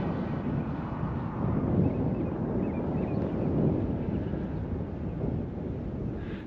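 Steady outdoor wind buffets the microphone in a low, continuous rumble while a cardboard RC plane is being flown, with no voices over it.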